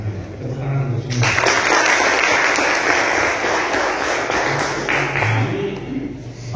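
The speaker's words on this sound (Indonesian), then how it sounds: "tepuk semua" An audience claps for school student council leaders at a hotel discussion session in Kupang. The applause is dense and sustained for about four seconds, with a voice speaking before and after it.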